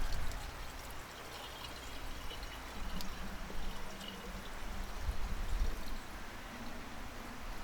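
Water being poured into a pump cylinder to prime it, a soft continuous trickling and splashing with faint gurgles, fairly quiet and steady, no talk.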